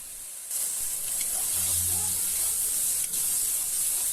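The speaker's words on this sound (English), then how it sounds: "Fry it till the masala is cooked properly." Masala for a fish gravy fries in a pan. A steady, close sizzle and hiss carries on throughout, with no talking over it.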